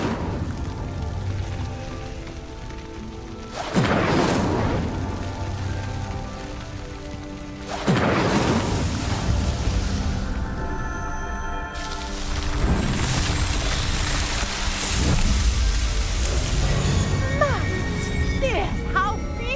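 In Hogwarts Legacy, the Incendio fire spell lights three pyres one after another, each ignition a loud whooshing burst of flame that settles into a roaring crackle, all under game ambience with a voice.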